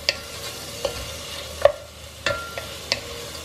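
A spoon stirs a fried rice mixture in a pan just after soy sauce and chili vinegar go in, with a handful of sharp metallic taps and scrapes over a faint background sizzle, close by, no talking.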